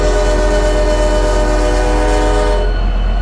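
Commuter locomotive horn in a Roblox rail sandbox, a loud steady multi-tone chord held for about two and a half seconds, then cut off abruptly, leaving a faint low rumble.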